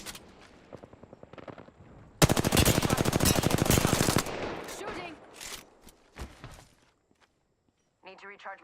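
Apex Legends gunfire: a few spaced shots, then a dense two-second burst of rapid automatic fire, followed by scattered shots and footsteps, with a voice briefly at the end.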